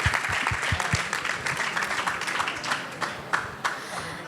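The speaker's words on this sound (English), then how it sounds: "Let me clap for myself too." Applause breaks out during a studio interview with a Khaliji singer, starting with a few distinct sharp claps and then spreading into a brief patter of clapping that fades.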